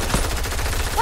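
Pistol gunshots in a video game during a pistol-only challenge, a loud, dense stretch of sharp blasts with some ringing at the end, up close and without voices.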